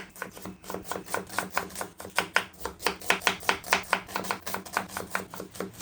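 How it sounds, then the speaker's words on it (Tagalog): A knife chops onion finely on a cutting board, giving about twenty sharp, evenly spaced taps in a brisk, steady rhythm that sounds close and clear. "Maghiwa na tayo dito ng ating sibuyas."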